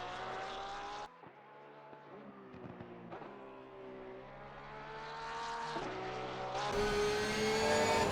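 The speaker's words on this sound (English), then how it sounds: "A monstrous sound of that flat 6 engine then screaming down towards Hatzenbeck" Flat-six race car engine screaming through the Nürburgring in a sim race, its harmonic whine rising with each upshift and loud throughout, with brief gear-change dips and a sharper surge near the end.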